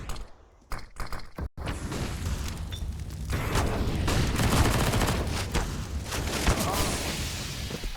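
Gunfire rattles in a Counter-Strike match on the Ancient map, with mechanical clicks and a few sharp bursts, then a sustained, loud barrage of shots and impacts filling the rest of the clip.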